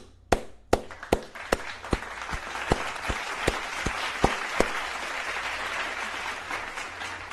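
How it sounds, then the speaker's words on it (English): Scattered hand claps from an online watch-party crowd, a dozen or so sharp, fairly regular claps over the first half, then thinning into a steady background hiss. "Let's clap to that."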